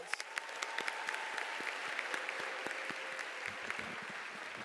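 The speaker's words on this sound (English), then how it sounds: "Let's take a moment to give Sarah and all the speakers you've heard so far another round of applause" A high school graduation audience applauds the speakers, a broad, fairly distant wash of clapping from a large crowd with a few sharper nearby claps standing out, sustained evenly across the whole stretch.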